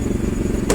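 A petrol forklift from Japan running at steady revs, a close, loud, even mechanical drone with a rhythmic clatter, ending in a brief brighter burst.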